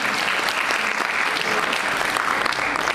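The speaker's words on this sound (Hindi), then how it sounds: "एक बार तालियां इनके लिए।" An audience at a Delhi Police event claps in a dense, steady burst of applause that fills the whole moment, loud and close, with no clear voices over it.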